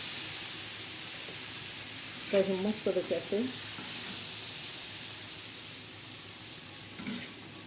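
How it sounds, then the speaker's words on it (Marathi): Bitter gourd slices fry with a splash of water in a pan, a constant loud hissing sizzle throughout, with someone speaking briefly partway through. "आपण त्याच्यावर त्याच्यावर हे कारले टाकणार आहोत आणि थोडंसं असं पाणी टाकणार"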